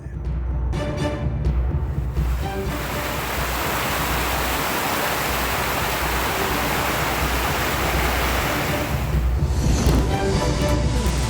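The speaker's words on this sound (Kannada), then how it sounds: "ಐತಿಹಾಸಿಕ ಮಾಗಡಿ ದೊಡ್ಡ ಕೆರೆಗೂ ಕೂಡ ಭಾರೀ ಪ್ರಮಾಣದ ನೀರು ಹರಿದಿದೆ" Heavy water pours into the historic Magadi big lake, a loud, unbroken roar of rushing flow heard close and steady throughout.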